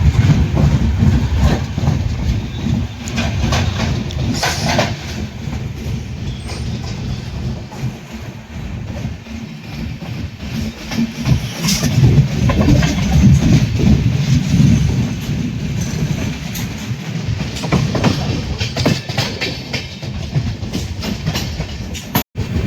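A passenger train pulls out of Madgaon Junction in Goa, its steady low rumble and wheel clatter filling the scene, with occasional louder rattles and no talking.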